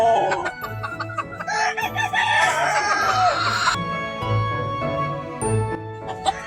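An untrimmed rooster bred for several years on a Georgia farm crows amid clucking hens and other birds, the crowing loud and near, with busy farmyard calls around it.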